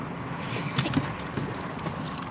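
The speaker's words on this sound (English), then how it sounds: "It's the keys to your car." Car keys jangling up close, a short run of light metallic rattles and clinks with a few sharper peaks, heard alone over faint background noise.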